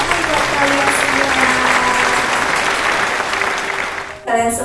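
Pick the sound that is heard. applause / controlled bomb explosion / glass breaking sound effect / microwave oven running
applause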